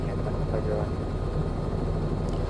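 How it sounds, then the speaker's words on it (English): A Robinson R66 helicopter in the MSFS 2020 flight simulator, lifting off a large helipad, gives a steady low engine and rotor drone at moderate level. "I love that sound coming back off the ground thanks to the Immersive Audio sound pack on this Robinson R66"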